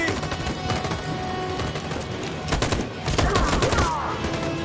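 Sustained machine gun fire in the video game Detroit: Become Human, loud and close, with rapid overlapping bursts and heavier volleys blending into a dense battle din.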